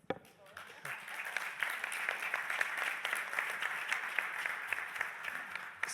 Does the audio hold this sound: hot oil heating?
no